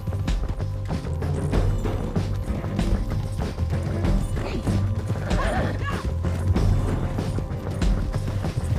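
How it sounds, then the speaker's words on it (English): A horse whinnies and its hooves clatter in Red Dead Redemption 2, the neighing layered over thumping hoofbeats and some rough knocking game sounds, fairly loud and busy throughout. "Damn horse!"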